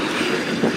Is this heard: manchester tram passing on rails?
yes